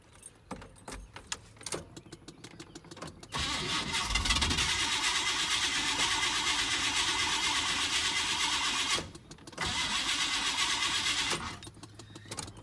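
A 1994 GMC C3500 truck with its fuel line drained, cranked with the key in the ignition. Two long, even bursts of starter churning are heard close by, with a brief pause between them and no sign of the engine catching.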